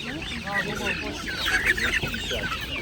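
Chickens and other fowl cluck and chatter at a busy market, a dense cluster of nearby bird calls with market voices mixed in underneath.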